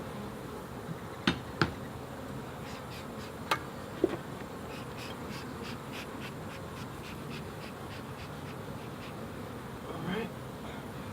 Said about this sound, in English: And you can hear them buzzing around your ears.